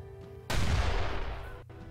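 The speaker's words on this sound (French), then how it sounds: "Je peux utiliser l'artillerie." A single booming artillery blast in the video game Dusty Revenge, bursting in suddenly over a low hum and decaying through a rumbling tail.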